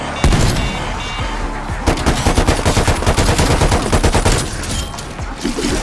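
Rapid, loud bursts of hand cannon gunfire in Call of Duty Cold War Zombies, close and sustained over several seconds with overlapping booming shots and impacts, no talk.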